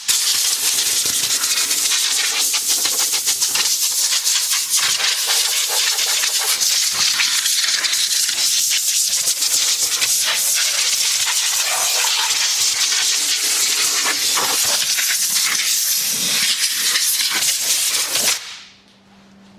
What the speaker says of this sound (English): I like to grab my compressed air again, just to get rid of any excess product that, you know, got into some spots